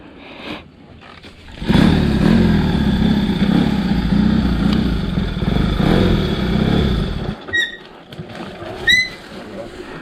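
A classic Triumph motorcycle fitted with a Volkswagen Beetle silencer fires up after a quiet start and runs loud and close with a throbbing rev, then cuts off abruptly, leaving faint chirps behind.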